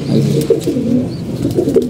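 Pigeons coo in a steady, low, rolling chorus close by, several birds overlapping for the whole stretch with no talking.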